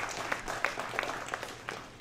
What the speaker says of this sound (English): start off with a round of applause